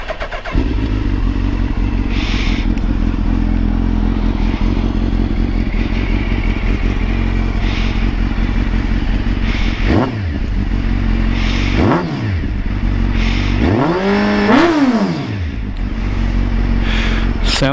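A 2019 Suzuki Hayabusa idles loud and close, then its engine is blipped in several sharp revs, the last a longer climbing rev that falls back to idle; no one talks.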